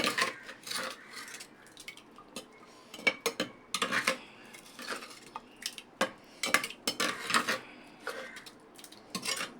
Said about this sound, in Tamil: தண்ணி ஊற்றி கலந்து பாருங்கள்